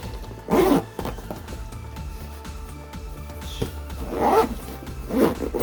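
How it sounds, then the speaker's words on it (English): A zipper runs around a Beyblade X gear case packed with about sixteen tops, giving several close, scratchy bursts of zipping, with the longer pulls near the start and toward the end. "let's zip it up so that way we could at least see if it could hold it all"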